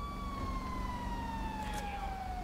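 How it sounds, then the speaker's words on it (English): A fire truck siren in the video game GTA 5 wails in a steady, slowly falling tone, moderately loud and unbroken, with road traffic rumbling underneath. "Oh, there goes the fire truck."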